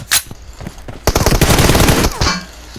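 Automatic weapon fire in the PUBG Mobile game: a single sharp shot, a few scattered pops, then a dense rapid burst of close, loud gunfire that ends abruptly.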